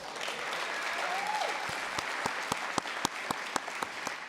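A school district audience at a State of the System event applauds: dense, steady clapping throughout, with individual sharp claps standing out near the end, no talk over it.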